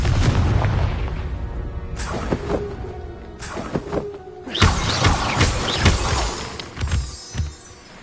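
Fiery explosions from the Confringo spell in Hogwarts Legacy burst with deep booms and crackling debris, several blasts in quick succession over a rumbling low backdrop.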